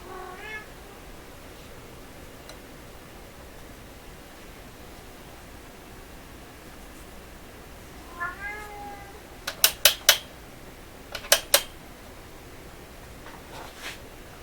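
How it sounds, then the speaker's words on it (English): A house cat gives brief meows, a faint one at the start and another around the middle, followed by a few sharp clicking bursts, over a steady hiss of background noise. "I gotta go feed the poor cat. She's really gonna be upset with me."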